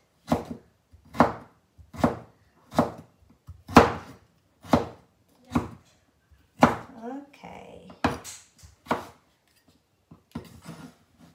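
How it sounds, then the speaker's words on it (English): A knife slices carrots thin for a vegetable salad. It knocks down onto the board in a steady rhythm of about one stroke a second, close and crisp, with a voice briefly audible near the end. "And carrots, sliced, thin of carrots."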